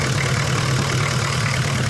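A 1981 Oldsmobile Cutlass diesel engine idles with blow-by, a steady low rumble and chug that runs unbroken and fairly loud throughout, with no voices over it.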